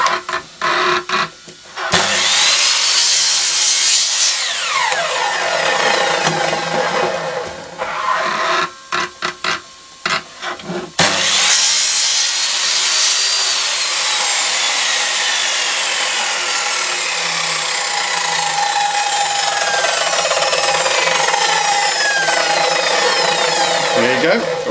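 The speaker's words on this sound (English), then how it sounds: "we're at the chop saw now, so we're just going to trim both ends up so they're nice and square" A chop saw whines loudly through a long cut trimming wood for coasters, briefly stopping and restarting, then runs steadily again with a high, grinding tone.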